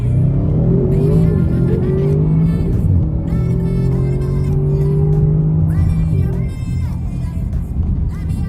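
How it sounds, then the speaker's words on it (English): A turbocharged Audi RS6 (C8) with an ABT power module roars as it accelerates hard, rising in pitch through several gear changes, with turbo whistle and a voice faintly in the background. "And you can hear the turbos a lot more."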